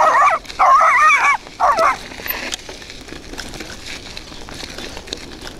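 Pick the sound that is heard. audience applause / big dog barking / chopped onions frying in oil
big dog barking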